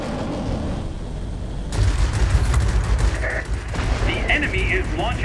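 Video game combat: rocket strikes hitting a complex amid gunfire, with a dense roar of explosions and rapid shots that swells loud after a quieter opening, continuous and close.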